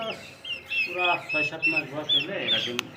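Two-month-old turkeys at a poultry market give short, scattered clucking calls close by, mixed in with people talking.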